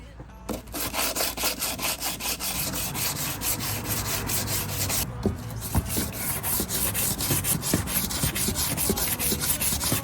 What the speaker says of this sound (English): Now that I've given the filler plenty of time to dry, I'm going to go ahead and shape it down with some 80 grit